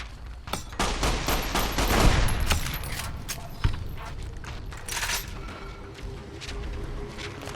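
Gunfire in Fallout New Vegas comes as a cluster of loud shots and impacts early on, then scattered sharper cracks, fairly close and prominent, with little speech.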